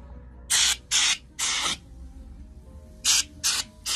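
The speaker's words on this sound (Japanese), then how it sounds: "これ高濃度炭酸ですね。" High-concentration carbonated water sprayed onto a scalp during a head massage gives five loud, close hissing bursts, three in quick succession, then a pause, then two more.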